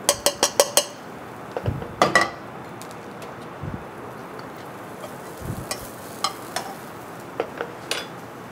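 Shallots dropped into hot clarified butter in a pan: faint sizzling runs under a series of sharp metallic clinks and taps from utensils against the pan, quiet and close.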